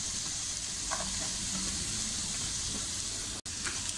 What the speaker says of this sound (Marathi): आता आपण ही सिमला मिरची टाकूया